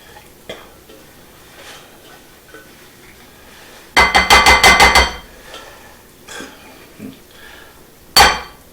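Saffron rice spooned from a pot into a bowl, with a loud burst of rapid metallic clinks and scrapes of a spoon against cookware, quiet handling noises between, and a second sharp clatter near the end.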